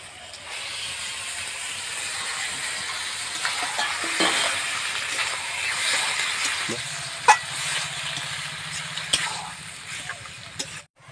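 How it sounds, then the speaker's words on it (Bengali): Duck meat goes into a hot pan for a papaya duck curry, raising a steady frying sizzle and hiss with stirring scrapes and a few sharp clinks, close and moderately loud, with no talk over it. "এবার মাংসটা দিয়ে দেবো"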